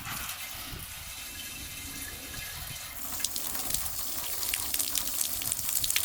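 Water streams steadily from the shower hand unit of a BougeRV off-grid water heater, a soft continuous hiss that grows louder and brighter halfway through.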